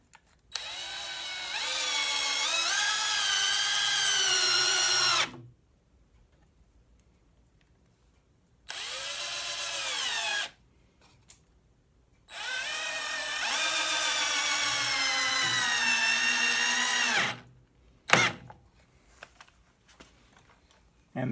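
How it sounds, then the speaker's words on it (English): A power drill whirs in three bursts separated by pauses, its pitch dropping as each screw tightens, followed by a few clicks and taps. "put the drill up here to put these 2 screws in place"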